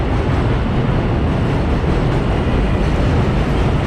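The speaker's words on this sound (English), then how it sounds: "There's a Manhattan-bound train entering the station." Manhattan-bound subway train entering the 30th Avenue elevated station in Astoria, Queens, late at night, a loud continuous roar of wheels and rumbling cars at close range, steady and heavy throughout.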